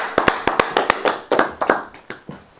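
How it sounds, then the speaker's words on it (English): A small workshop audience claps in sparse, uneven bursts, with individual sharp claps standing out close by and fading toward the end. "A round of applause for Anoop."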